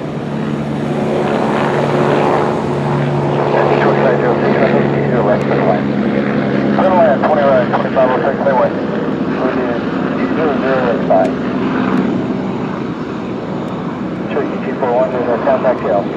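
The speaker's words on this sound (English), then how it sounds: "the helicopter departing, and they're going to be departing to the east" Near an airport, a helicopter departs with a loud, steady rotor and engine roar that holds throughout. Radio voices talk over it.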